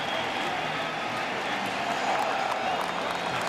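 Baseball stadium crowd at an Angels–Red Sox 2004 ALDS playoff game roaring after a double, a steady broad wash of cheering and scattered applause that holds loud throughout and swells slightly near the end.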